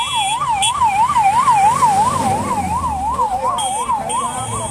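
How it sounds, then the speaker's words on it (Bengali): Wailing ambulance and fire engine sirens rise and fall steadily and loudly throughout, with a second higher siren layered in, over a background of road traffic near the crowded Mahakumbh Mela in Prayagraj. "খানিকক্ষণ পরে দেখি অ্যাম্বুলেন্স আর দমকলের গাড়ির ছোটাছুটি।"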